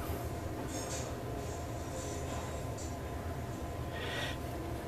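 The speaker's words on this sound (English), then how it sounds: "So most of the noise you're hearing right now is in the dumbwaiter." Traction dumbwaiter travelling in a hospital shaft, giving a steady, fairly loud mechanical rumble with brief hissing and scraping bursts on top throughout.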